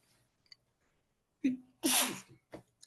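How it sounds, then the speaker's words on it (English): Two quick sneezes from one person, close and sharp, separated by a short breath, with near silence around them. "Oh, I'm a two sneeze person this morning."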